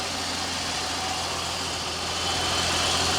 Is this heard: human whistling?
no